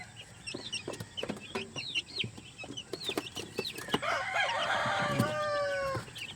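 Golden Boy and Sweater chicks in a small brood of eleven, cheeping and peeping in a busy overlapping chorus, with a few louder chirps and clucks close by and a denser flurry of calls near the end.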